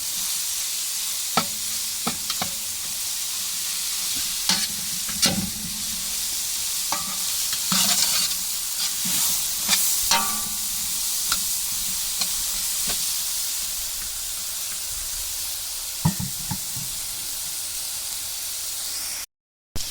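Onion and garlic sautéing in a pan sizzle and hiss steadily, with frequent scraping stirs and clinks of a utensil against the pan throughout.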